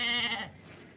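A single loud goat bleat, close and clear, rising briefly and then trailing off. The animal is a large, plump goat picked from a herd before a ritual sacrifice on a mountain route in Pakistan.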